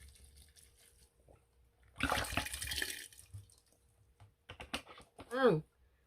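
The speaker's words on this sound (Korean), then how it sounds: "자, 여기다가 물을 부어 보겠습니다" Water is poured for fermenting barley makgeolli, a brief close splashing gush followed by quieter clinks and handling sounds, with a voice speaking near the end.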